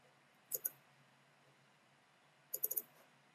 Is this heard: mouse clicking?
yes